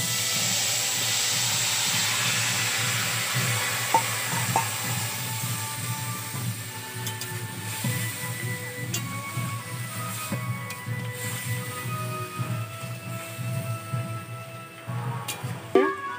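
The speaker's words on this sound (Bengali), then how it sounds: "এই তেলের মধ্যে আমি এই কালো সর্ষে অল্প করে দিচ্ছি ফোড়ন হিসাবে" Black mustard seeds tempering in a little hot oil for spinach stem chorchori, giving a steady broadband sizzle with light crackles and pops throughout, alone and fairly close.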